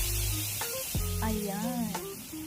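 Cooked mung beans are stirred into a sizzling vegetable stew with coconut milk, with soft scraping and bubbling amid odd tonal noises and low hum.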